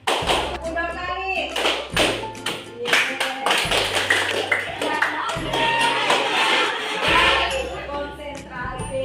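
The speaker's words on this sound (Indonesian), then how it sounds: "Tepuk 2 kali." A classroom of students claps a practised rhythm of paired claps, with sharp group claps repeating over steady hum and some talk.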